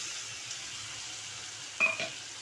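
Masala paste for a prawn curry frying in oil, a soft steady sizzle with a brief louder spatter near the end as more ground paste goes in.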